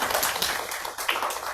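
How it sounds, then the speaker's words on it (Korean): A church congregation claps together in a brief burst of dense, even applause filling the room. "박수 한번 쳐주시기 바랍니다"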